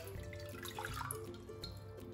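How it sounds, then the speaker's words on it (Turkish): Two glasses of lukewarm water poured into a wide bowl for bazlama flatbread dough, a soft, quiet, steady trickle and splash close by with no talking. "2 su bardağı ılık suyumu ekledim."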